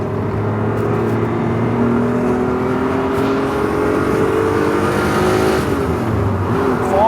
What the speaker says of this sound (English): Listen to that 12-cylinder.